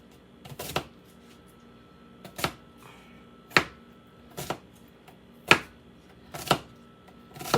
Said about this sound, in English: very inexpertly chopped half of an onion